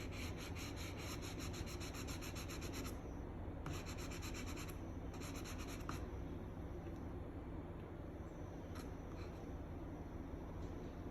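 A pencil colours in the wing of a lilac-breasted roller drawing with close, scratchy rubbing strokes, in quick rhythmic bursts at first, then a steadier continuous scrape.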